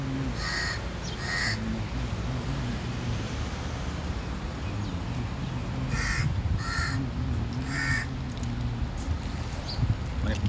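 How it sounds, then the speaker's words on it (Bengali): Crows caw outdoors in repeated short bursts of two or three calls, heard over a constant low background hum. "মানে পাখির ডাকগুলা, কিচিমিচি ডাক"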